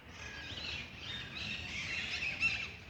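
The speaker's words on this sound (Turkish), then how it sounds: "O papağanların sesleri geliyor." Parrots call from the trees of Gülhane Park in autumn, beside Topkapı Palace, making a dense chorus of shrill chirps and squawks that runs unbroken with no talk.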